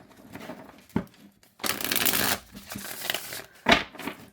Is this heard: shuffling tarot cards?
yes